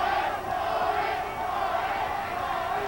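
A boxing arena crowd at a superflyweight bout roars in a continuous, fairly loud swell of cheering and shouting, with no clear single voices standing out.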